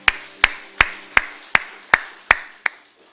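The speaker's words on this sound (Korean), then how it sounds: "하나님께 영광 박수 올리겠습니다." A church congregation at a Sunday worship service claps in unison, eight sharp claps in an even, steady beat close by with no talking.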